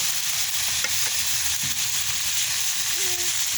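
Tomatoes frying in hot cooking oil, a steady bright sizzle that holds evenly throughout, close and fairly loud, with a few faint utensil taps.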